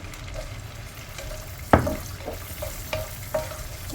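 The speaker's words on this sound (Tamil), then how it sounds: "இதை நல்லா வறுத்துருவோம்." Crushed garlic and ginger fry in a spoonful each of ghee and oil with a steady close sizzle, punctuated by a sharp clink and a few lighter spoon taps as they are stirred, with no talking.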